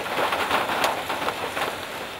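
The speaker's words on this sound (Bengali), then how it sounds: "মাঝে মাঝে অঝরে ঝরছে বৃষ্টি" Heavy monsoon rain pours down in a dense, loud, unbroken rush of drops on hard surfaces, steady throughout with no voices.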